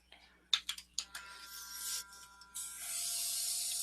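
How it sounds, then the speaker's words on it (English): An eBrush sprays mustard-coloured paint onto paper as a steady close hiss, preceded by a few sharp clicks. "I always test to make sure I have a fine spray"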